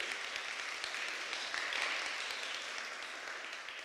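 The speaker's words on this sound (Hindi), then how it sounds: "ज़रा ज़ोरदार तालियों की आवाज़ आनी चाहिए।" Guests are welcomed at a Friday prayer meeting with a burst of applause, a soft, steady patter of clapping heard from some distance at low volume.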